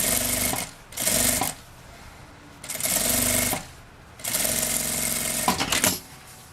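A sewing machine stitches the lining seam of a vintage bag in three steady bursts of rapid mechanical whirring, close and clear, with short pauses between them.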